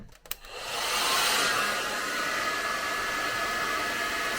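A couple of clicks, then a hotel room hair dryer whirs on and runs steadily with a loud, even rushing hum.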